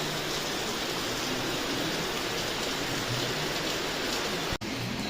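Steady rain pours down on a cool, windy day, a dense, even hiss of falling water that holds constant throughout with no voices.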